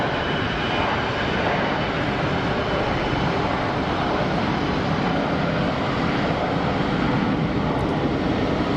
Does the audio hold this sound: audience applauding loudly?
no